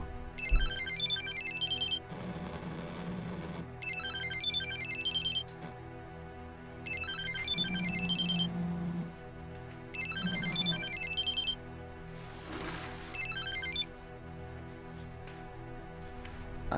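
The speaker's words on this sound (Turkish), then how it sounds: "Bahar, telefon." A telephone rings in repeated electronic bursts, each lasting about a second and a half with short pauses between, moderately loud and close.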